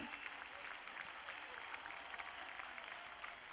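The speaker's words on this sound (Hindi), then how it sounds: "जबरदस्त तालियां, जोरदार तालियां।" An audience at a motivational talk applauds, a faint, even wash of clapping that runs throughout with a voice mixed in.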